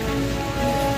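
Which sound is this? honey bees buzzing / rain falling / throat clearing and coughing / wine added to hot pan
rain falling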